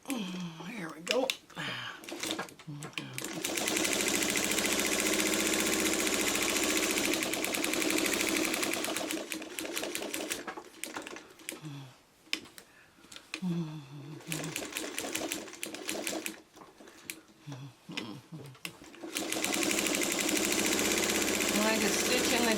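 A sewing machine stitches in the ditch along a potholder's seam in rapid, rattling bursts with short pauses between runs, loud and close, with a voice speaking over it.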